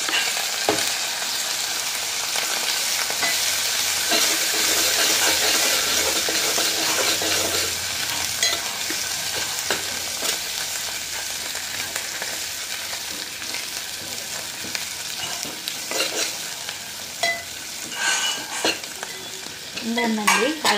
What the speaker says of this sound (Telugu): ఉందండి, అల్లం పేస్ట్ వేసా.